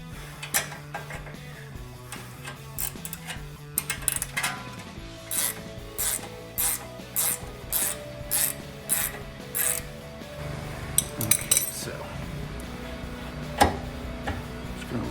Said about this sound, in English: we'll just switch over to our 21 millimeter and 10 millimeter wrenches